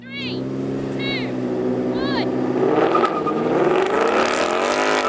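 Engines of a new Ford Mustang V8 and a BMW M2 in a race, a loud sustained roar with rising revs and pitch sweeps, under excited talk throughout.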